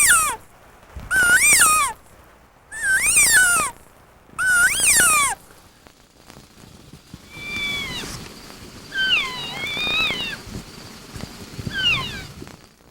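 A human voice or hand call imitates elk alert mews: three loud, rising-and-falling squealing calls with gaps between them, then softer, wavering mews over a faint background.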